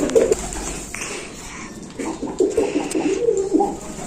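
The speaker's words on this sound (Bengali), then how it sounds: "যে পায়রাগুলো এখন খাচ্ছে" Several pigeons feeding close by give low, soft coos, a quiet bubbling murmur that swells in short phrases through the stretch, with no voices over it.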